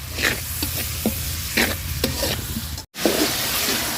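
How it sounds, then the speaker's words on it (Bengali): Chili powder and salt spice masala for a rani fish curry with tomato and potato fries in a pan under brisk stirring. Loud sizzling carries rhythmic scraping strokes, with a brief silent cut near the end. "তো মশলাটা সুন্দর করে কষায় নেই।"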